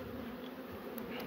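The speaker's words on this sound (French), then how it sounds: "Les abeilles." Honey bees buzz in a steady, dense drone close to an open beehive, continuous and even with no voices.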